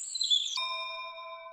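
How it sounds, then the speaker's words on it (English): A bell rings once, loudly and clear, its bright strike settling into a sustained ringing tone that lingers alone and slowly fades. "The bell rings loudly."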